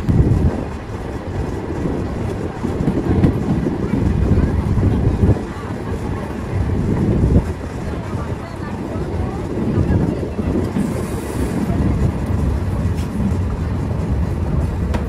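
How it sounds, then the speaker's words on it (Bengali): The Ruposhi Bangla Express rumbles heavily and continuously nearby as it arrives at Narail station, a dense low roar with shifting clatter, as voices murmur faintly underneath. "ফাইনালি আমাদের ট্রেন চলে আসলো হচ্ছে তার তৃতীয় অফিসিয়াল স্টপেজ নড়াইল স্টেশনে"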